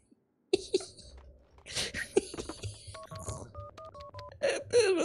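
Short electronic telephone dialing beeps from Max Payne 2, a series of clipped stepped tones in the middle of the clip, preceded by coughs, rustles and other game noises.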